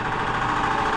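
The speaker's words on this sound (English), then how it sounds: "So turn the air compressor on here, let it pump up" An air compressor running as it pumps up, a steady mechanical drone with a rapid low knocking pulse, close and continuous for a brief moment.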